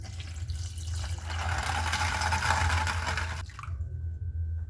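Soaked dried fava beans are drained and rinsed, giving a steady close splash of running water that cuts off abruptly near the end and is followed by faint drips and a low hum.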